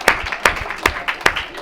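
An audience clapping at a youth talk: a short burst of fairly close applause, with distinct claps in a quick, uneven rhythm.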